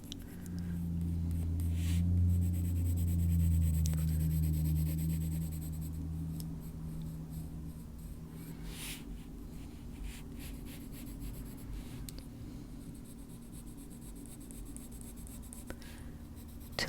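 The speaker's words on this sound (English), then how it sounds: "Using the side of the pencil just to add in the color there." Pencil coloring on paper in a coloring book, the side of the lead shading in color with a soft, steady scratchy rasp, close and quiet, fading gradually with no voices.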